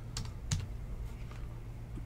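A few quick keystrokes on a computer keyboard, close and fairly soft, two or three taps in a short burst over a faint room hum.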